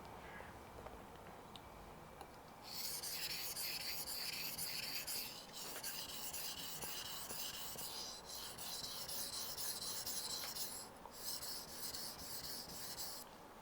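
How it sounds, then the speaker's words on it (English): A knife blade being sharpened with light strokes on a stone, a soft, steady raspy scraping that is close and faint and continues in long, even passes with brief breaks. "Working the blade in a third, and I'm doing fairly light strokes here."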